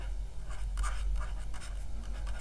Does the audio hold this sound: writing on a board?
yes